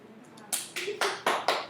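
Hand clapping: about five sharp, separate claps in quick, slightly uneven succession, close and distinct, preceded by a few softer taps.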